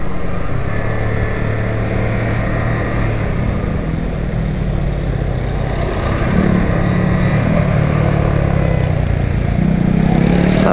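Motorcycle engine laboring steadily uphill on a mountain road toward Sajek Valley, a loud continuous drone close by that rises in pitch near the end, with no talking.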